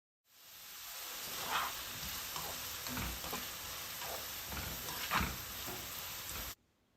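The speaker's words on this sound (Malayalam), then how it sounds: "നമ്മൾ എണ്ണയിലിട്ട് വറുക്കുന്നതുകൊണ്ട് പെട്ടെന്ന് തന്നെ അതങ്ങ് ഫ്രൈ ആയിട്ട് കിട്ടും." Beetroot pieces fry in hot oil for a Kerala pickle, giving a dense, continuous sizzle and crackle with a few louder stirring scrapes. It is close and steady, with no talking.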